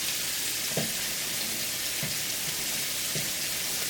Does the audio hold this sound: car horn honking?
no